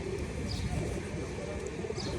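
Domestic pigeons in a loft coo in low, soft, continuous murmurs close by, set against a constant noisy background.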